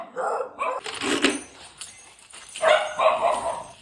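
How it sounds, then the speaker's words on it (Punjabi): A dog barks and yips in short bursts close by, with a couple of louder barks near the end and some voices mixed in. "ਦੇਖੋ ਲੀਜਾ ਦਾ ਭਾਈ ਭੌਂਕ ਰਿਹਾ"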